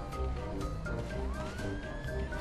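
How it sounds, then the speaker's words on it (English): Police siren in Grand Theft Auto V wailing through a dense game mix, one long rising sweep under steady engine rumble and clatter, fairly loud and continuous with no talk. "I love how the siren is like dying."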